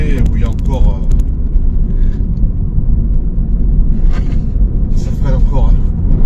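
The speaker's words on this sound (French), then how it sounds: "Quand je mets la 2 à fond, on sent qu'il y a un palier où il y a encore..." A cruiser motorcycle pulling at full throttle in second gear, a loud, rough, continuous engine rumble close by, with voices talking over it.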